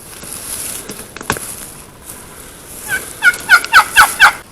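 Wild turkeys gobble near a roost on Ohio private land during a hunt, a run of five loud, close gobbles in quick rhythm at the end after quieter rustling and faint footsteps.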